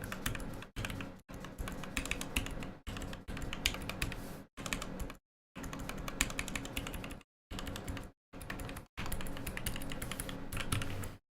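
Fast typing on a mechanical keyboard, keycaps bottoming out and striking the switch tops, in a steady close clatter broken by several short pauses. No one speaks.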